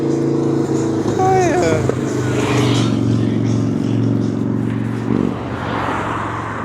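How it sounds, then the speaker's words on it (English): A loud motorcycle engine drones steadily nearby, rumbling beneath a brief spoken remark, its pitch shifting slightly as it passes. "someone's on their motorcycle"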